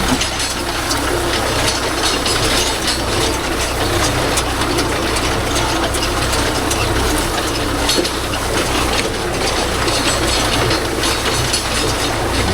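A gomathi hay baler driven by a Kubota MU4501 tractor rolling solam straw in a field, a loud continuous mechanical clatter of gears and ratcheting over a steady engine drone, close and unbroken throughout.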